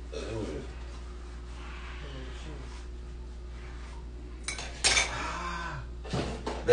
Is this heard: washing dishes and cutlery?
yes